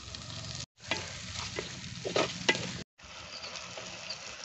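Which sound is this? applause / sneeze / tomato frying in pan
tomato frying in pan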